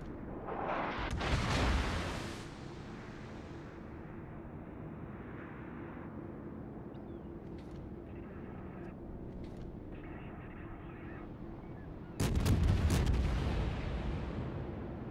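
Heavy warship artillery fire in World of Warships: a loud booming salvo at the start, a long low rumbling bed with faint mechanical sounds, then a second big blast near the end.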